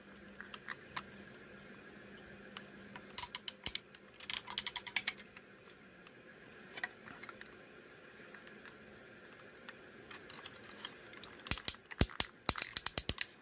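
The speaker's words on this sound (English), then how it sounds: "this was really tight, nice ratchets, nothing loose." Joints of a Metalclub Voltron toy ratchet as it is transformed, with clusters of crisp close clicks and ratchet bursts broken by quieter handling pauses.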